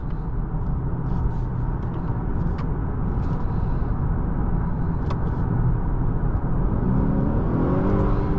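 Cabin drone of a 2021 Honda Accord Touring with the 2.0T engine and 10-speed automatic accelerating, a steady low rumble with road noise, engine pitch climbing toward the end.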